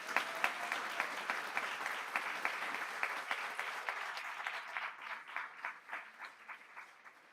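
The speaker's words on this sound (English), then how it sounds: "We give them a big round of applause." A school board meeting audience applauds steadily for several seconds, the clapping thinning out toward the end into scattered, separate claps.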